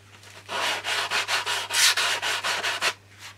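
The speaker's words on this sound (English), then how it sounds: "this is a foam sanding block" Foam sanding block rubbed back and forth over a model aircraft wing, about a dozen steady rhythmic strokes, close and fairly loud over a low constant hum, with no talking.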